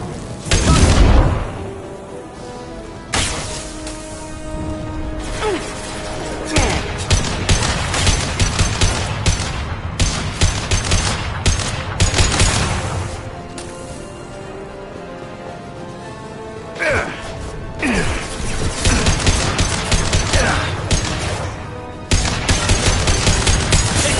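Heavy weapons in Mass Effect 2 fire in loud bursts of gunfire with booming explosions that go on nearly without a break. Dense rattling volleys rise and fall over a low rumble, with sharp blasts near the start and end.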